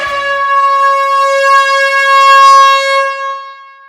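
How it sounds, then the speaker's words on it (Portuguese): A loud, steady horn blast opens a show episode, holding one harmonic-rich tone for about three and a half seconds before fading slightly at the end. "pode soar a buzina que esse episódio já está começando"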